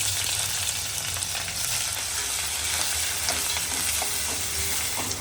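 Onion hits hot oil with curry leaves for a Malvani fish curry, and a dense, steady sizzle and crackle fills the pan, loud and close, with occasional stirring clinks and no talk.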